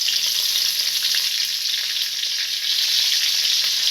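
Mustard seeds, urad dal, red chilies, coriander and curry leaves sizzle in hot oil for upma, a steady, loud, close frying hiss with no talk.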